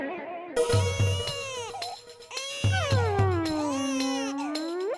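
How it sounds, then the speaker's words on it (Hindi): An infant cries loudly in wailing, rising and falling bursts, close by, with a pause partway through and a few soft low thumps underneath. "आवाज तो आ रही है रोने के बच्चे की"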